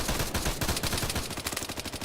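Rapid bursts of machine gun fire from a mounted MG in the Arma 3 video game, loud and continuous over about two seconds, with dense repeating shots and no voices.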